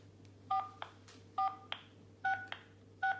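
A telephone keypad dials an outside line with four evenly spaced dual-tone beeps, each followed by a brief click, close and clear over a faint constant hum with no voices.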